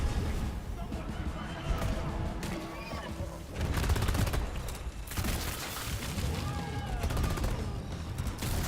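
Rapid bursts of gunfire from Deep Rock Galactic crackle loudly and almost continuously, with dense volleys and heavier impacts, while a voice talks over the shooting.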